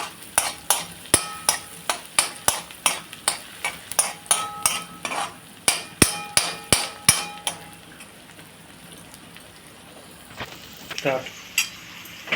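Pav bhaji ingredients fry over medium-low heat while a spoon strikes the pan in fast, regular metallic clacks for several seconds, then the clatter thins out to a soft sizzle with a few scattered knocks.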